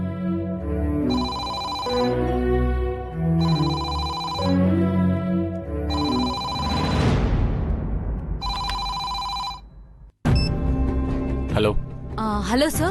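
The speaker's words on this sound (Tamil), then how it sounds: "போன் அடிக்குது" A telephone rings with a repeated electronic pattern of bursts, loud and close, inside a television drama scene. Voices and music overlap the ringing before it cuts off abruptly.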